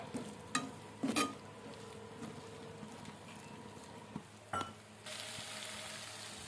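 Chili powder and sambar powder fry in a pan for a soya chunks kebab, a soft steady sizzle broken by a few sharp scraping and stirring knocks against the pan.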